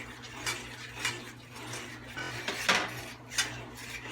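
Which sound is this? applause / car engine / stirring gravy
stirring gravy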